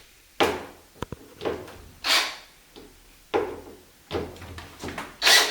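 A composite uPVC door being lifted out of its frame after its hinges are removed gives a series of knocks, thumps and scraping rubs, irregular and close, with no talking.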